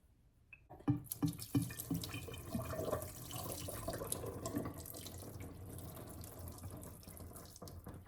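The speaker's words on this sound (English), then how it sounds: "Until the water runs clean" Water runs steadily from a tap, splashing and gurgling over wet yarn being rinsed after dyeing, with a few knocks at the start.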